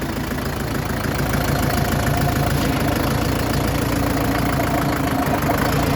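A new John Deere tractor engine runs loud and close, a steady low diesel chugging throughout with no voices.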